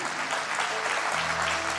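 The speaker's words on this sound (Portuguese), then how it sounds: "Viu que as palmas já dão uma diminuída, né?" Church congregation clapping during a worship service, steady dense applause that carries on throughout, close and fairly loud, with a low sustained tone entering partway through.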